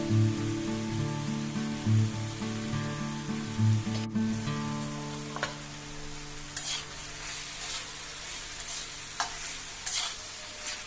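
Malvani green masala with cumin powder, salt and roasted Malvani masala is stirred and sautéed in a pan for prawn masala, with a steady sizzle, scraping strokes and intermittent clatter close by, and no talking.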